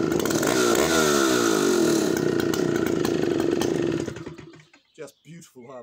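A classic Danarm 90cc chainsaw, with a big 54 mm piston and 40 mm stroke, roars loudly and steadily for about four seconds before cutting off and leaving a few faint sputters and pops.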